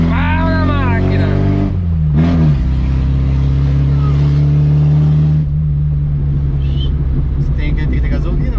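Chevrolet Chevette engine revved hard at full throttle, loud and close, with the pitch climbing and dropping in sweeps before settling into a sustained high drone, then cutting back as voices talk over it.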